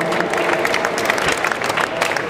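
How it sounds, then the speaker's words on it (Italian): An audience at a giant-pizza event gives warm applause, a brief burst of dense clapping with a hint of crowd noise that lasts just over two seconds. "qui ci vuole un applauso caloroso"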